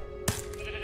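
A single short sheep bleat from Minecraft: Story Mode, a brief mid-pitched burst near the start, heard alone against a steady low game hum.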